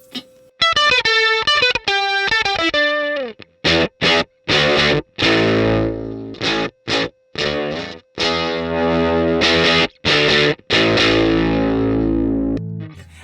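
Gritty, distorted electric guitar through a Flower Pedals Lupine analog octave-up pedal, playing choppy riffs with a buzzy, fuzzy, broken-amp edge, loud and up close, with short pauses between phrases.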